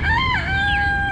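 A young chicken hatched at a school and kept on a homestead gives a loud, sustained call that wavers in pitch and then holds steady, heard close and alone for about a second.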